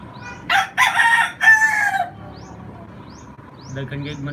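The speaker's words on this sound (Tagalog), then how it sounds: "Daghan gayud manok ang langas kayo." Several roosters crow on an overcast afternoon, a few long calls close by in quick succession, with faint chirping birds and soft clucking in the background.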